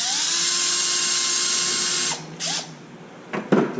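Cordless power tool unscrewing a bolt on a Traxxas Wide Maxx 4S RC car, a loud steady whine running for about two seconds before stopping, then short clicks and a brief burst of handling nearby, with no talking.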